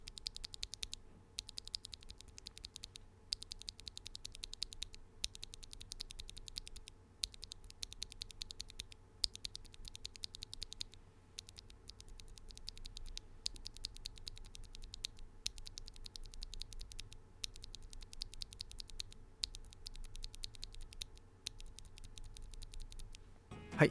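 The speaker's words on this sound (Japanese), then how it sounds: "このキースイッチの単体の音ですね" A single brown tactile mechanical keyboard switch is pressed on its own over and over, each press giving a short, soft click in a steady rhythm against quiet background hum.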